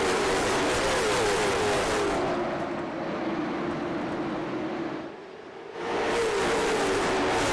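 A pack of late model race cars roaring around North Wilkesboro Speedway, a loud continuous engine drone that swells and dips as the field passes, with a brief lull before the roar returns.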